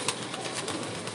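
Breeder pigeons in a loft during molting season, cooing softly in a low, continuous murmur that blends with steady background hiss, close by and unbroken, without any voices.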